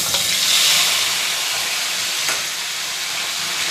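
Chili and ginger paste sizzling hard in hot oil for a spice tempering, a loud, steady, close frying hiss that runs throughout.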